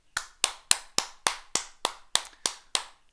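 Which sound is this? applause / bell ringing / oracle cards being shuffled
applause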